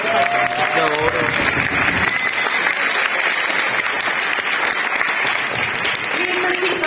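An auditorium audience at San Marcos university in Lima applauds Hernando de Soto with sustained, loud, dense clapping that fills the room, while a voice speaks over it near the start.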